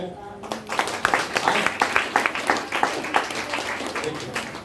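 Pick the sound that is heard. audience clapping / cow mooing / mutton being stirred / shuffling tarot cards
audience clapping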